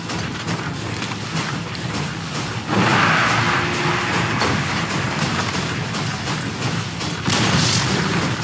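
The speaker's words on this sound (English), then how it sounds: "Dire's top tower has fallen." In the Dota 2 game, the Dire side's top tower is destroyed with a loud booming crash. A sustained rumbling wash follows, then a second burst of noise near the end, with no voices.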